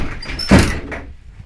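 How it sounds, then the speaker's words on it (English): A door swings shut with a single solid thud in the middle, close and fairly loud, followed by a short fading room tail. "we're closing the door"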